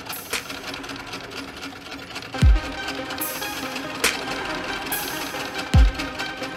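A domestic sewing machine stitches the outline of an embroidered flower in satin stitch, giving a continuous rattling whirr broken by a few sharp knocks and short stops.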